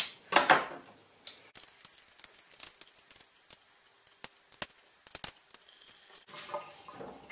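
A knife cuts and scrapes the plastic off Caffitaly-style coffee pods in a run of sharp, irregular clicks and crackles, loudest at the start, then scattered snaps and rustles close up, with no talking.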